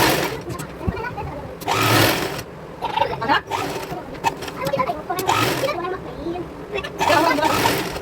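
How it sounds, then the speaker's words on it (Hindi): A sewing machine stitches saree fabric to its lining in several bursts of rapid mechanical chatter, close and loud, broken by short pauses while someone talks in between. "तो चलिए अब हम इसकी सिलाई करते हैं।"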